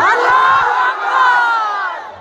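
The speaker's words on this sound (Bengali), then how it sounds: "সিঙ্গেল ভাইরা তাকবীর দাও, লিল্লাহি তাকবীর" A crowd of single young men at a waz mahfil shouting takbir together, one loud sustained massed cry that swells, dips briefly, then rises again and fades.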